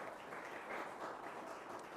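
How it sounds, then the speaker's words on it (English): Applause from the audience at an employee awards presentation, steady dense hand clapping that stays quiet and distant for the whole stretch. "Give him another hand clap, everybody."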